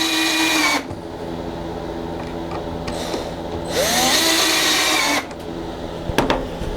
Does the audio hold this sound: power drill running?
yes